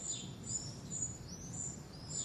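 Birds sing in the historic centre of Cáceres, with repeated thin high chirps and trills rising faintly over a low, steady outdoor hum.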